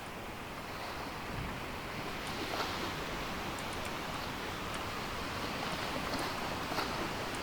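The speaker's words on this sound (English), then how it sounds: "I definitely heard some howling winds, and these waves are getting atrocious" Ocean waves and gusting wind around a sailing ship in the Sailwind game as a storm builds: a constant, loud roar of surf and blowing air with no break or voice.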